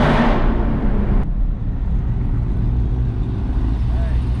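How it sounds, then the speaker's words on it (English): A 900+ horsepower Jeep Grand Cherokee Trackhawk with mid mufflers and resonators rumbles with a deep, steady exhaust drone, close and loud, a brief higher roar fading in the first second. "he still has the mid mufflers and the resonators in the car, and like you can hear that."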